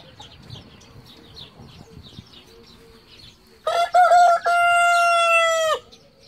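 Brahma rooster crowing loudly and close in a long drawn-out call after soft background clucking from the hens, outdoors in a farmyard.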